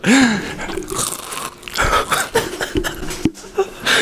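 Chips crunched loudly up close, sharp crisp bites and chewing mixed with laughter and casual talk between people.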